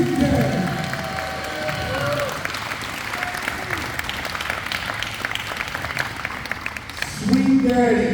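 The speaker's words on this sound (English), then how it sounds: "you most certainly should be applauding right now for the sweet daddy" A live audience applauds for Malcolm Monroe at a broadcast event, dense sustained clapping and crowd noise filling the whole stretch, with cheering voices rising near the end.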